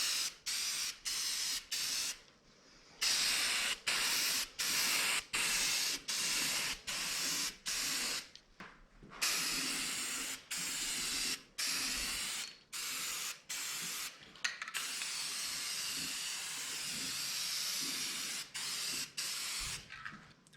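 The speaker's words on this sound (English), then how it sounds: "So I'm going to go ahead and do the base coat, probably 2 coats all the way around." Spray can laying down a pearl gold base coat, heard as a series of steady hissing bursts, each a second or so long, separated by short pauses, close and loud with no talking.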